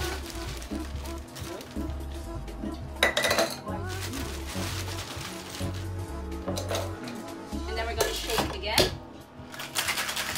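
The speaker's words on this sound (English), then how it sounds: "And then I'm going to put in some ice." Ice goes into a cocktail amid a busy clatter of glassware and bar tools, with clinks and rattles under a steady music beat and background chatter from a workshop crowd.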